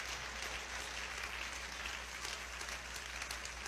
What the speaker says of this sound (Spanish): alguien puede aplaudirlo mejor a él esta mañana